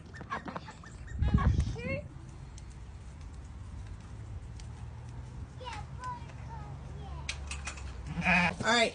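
Farm goats bleat during morning chores, with a couple of loud nearby bleats at the start and end and softer calls between, over background farmyard noise and people talking.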